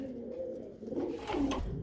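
Pigeons at a busy pigeon market give a low, soft coo close by over a faint background murmur, with the cooing rising briefly toward the end.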